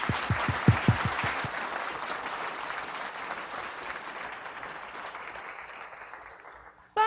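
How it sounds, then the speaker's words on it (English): Audience applause at a foundation summit honouring hearing-aid service in Malawi, a sustained round of clapping that starts strong with a few sharp claps, then slowly fades away over several seconds before a brief final burst. "please give them a round of applause for this service."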